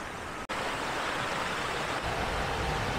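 Steady rushing of springs and waterfalls in a national park in Uruapan, a broad, continuous wash of flowing water that stays loud and even throughout.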